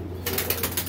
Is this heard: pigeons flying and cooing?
yes